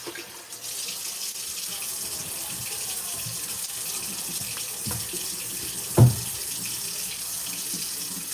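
A kitchen tap runs hot water into a sink while a beef stroganoff is being made, a steady hiss of flow that lasts the whole time, broken by one brief knock near the end.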